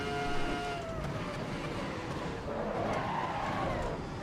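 Race car tires skid and scrub under late braking in Assetto Corsa EVO, a steady loud roar of engine and tire noise with a falling whine, continuous for about four seconds with no talking.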